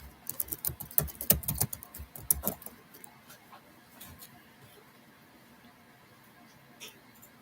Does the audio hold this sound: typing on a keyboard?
yes